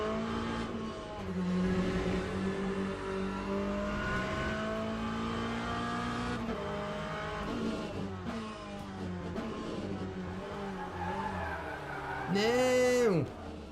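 A race car engine in the Le Mans Ultimate sim racing game hums steadily and shifts pitch through gear changes, then swells into a loud, sweeping rev near the end, with a voice talking faintly underneath.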